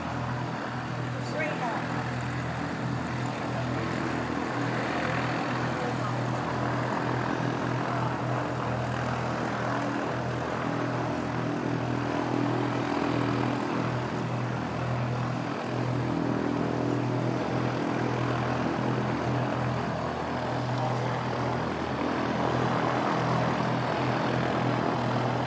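A propeller aircraft at Christchurch Airport, New Zealand, drones steadily at moderate distance, a continuous engine hum holding level throughout with no talk over it.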